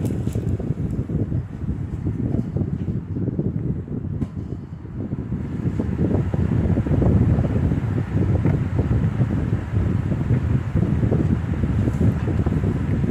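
A 1994 Lasko 16-inch stand fan, model 2116, runs on its high setting, producing a steady, close, rushing airflow with a low motor rumble and no talking.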